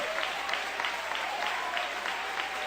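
A church congregation claps steadily and densely throughout, a continuous wash of hand applause filling the room with faint voices mixed in.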